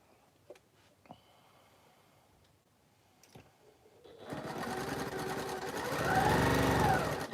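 A sewing machine stitches quilt pieces for a double carpenter's star quilt, starting after a few quiet clicks and running steadily and loud for the last few seconds, its motor pitch rising slightly as it speeds up.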